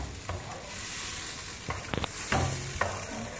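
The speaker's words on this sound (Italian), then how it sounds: "ci mettiamo una sfumata di vino bianco che facciamo rosolare, che deve asciugare questo" White wine reduces in a pan of frying puttanesca sauce with a steady, close sizzle. Utensils scrape and clink against the pan several times as it is stirred.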